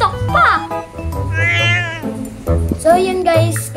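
A cartoonish Roblox cat meows loudly and close up, several drawn-out meows in quick succession that fill the short stretch.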